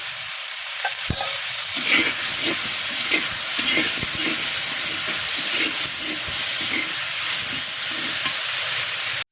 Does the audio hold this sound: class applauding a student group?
no